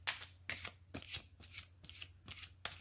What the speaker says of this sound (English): I'll shuffle and pull 3 cards from each deck to form 3 piles.